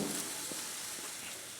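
Pork blade steak sizzling on a grill, a steady dense hiss of fat and meat juices crackling close up, constant in level with no voices.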